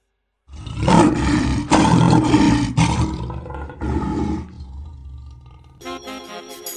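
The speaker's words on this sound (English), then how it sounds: "Lion voice." A lion roars loudly and close, a run of deep, powerful bellows that fades into lower grunting, with a brief burst of music at the end.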